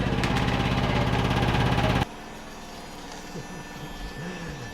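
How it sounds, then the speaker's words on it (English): A washing machine spin cycle roars loudly and steadily for about two seconds with a dense rhythmic hum, then cuts to a quieter low whirring hum with faint wavering tones. "This is the spin cycle."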